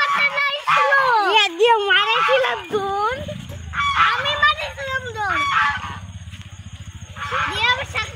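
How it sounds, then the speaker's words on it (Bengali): Village ducks being herded along quack in loud, repeated nasal bursts nearby, and people, including children, talk around them. "গ্রামের মহিলারা কিভাবে হাঁস তাড়ায়"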